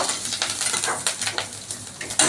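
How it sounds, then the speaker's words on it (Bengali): Curry leaves frying in hot oil for Gujarati dahi kadhi, a brisk crackling sizzle with quick repeated stirring scrapes and a utensil clink at the end. "কারি পাতাগুলো ভালো করে ভেজে নেব"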